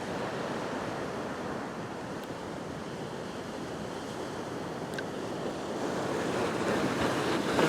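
Ocean waves breaking at a rock fishing spot, a steady broadband wash of surf that swells slightly louder toward the end, with no voices.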